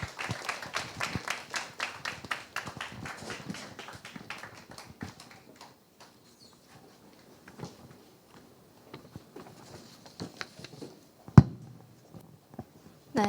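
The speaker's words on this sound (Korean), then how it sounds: "다시 한번 또 박수로 환영해 주시기 바랍니다." Sparse applause welcomes a speaker at a Korean church youth worship service held over Zoom, a scatter of claps that fades out after several seconds into near quiet, broken by a single sharp knock.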